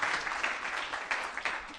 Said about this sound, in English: A round of applause, please, for yourselves